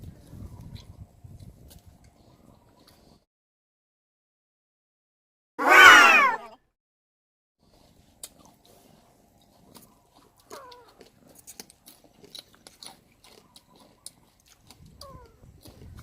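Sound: cat meowing

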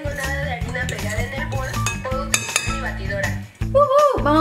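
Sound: stirring chocolate cake batter with a fork in a bowl

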